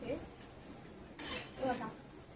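Okra (bhendi) roasting in a pan while being stirred, with soft scraping and clinking of a utensil against the pan over a faint sizzle, brief quiet strokes with someone speaking.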